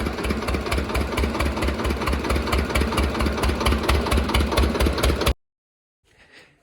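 A small engine fitted at the back of a homemade jugaad cart chugs at a steady, loud, rhythmic idle, then cuts off abruptly, leaving near silence with a faint rustle.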